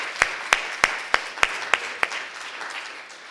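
A church congregation claps for the choir, a few slow, sparse claps spaced evenly and close together, fading out after about two seconds with no talk over them.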